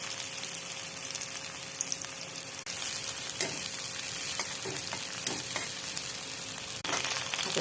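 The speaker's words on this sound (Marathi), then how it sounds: "आपला कांदा लसूण छान परतला गेलेला आहे." Onion and garlic sizzle steadily in a pan with chopped green chillies, a dense continuous fry broken by occasional stirring scrapes and soft clinks; no one speaks.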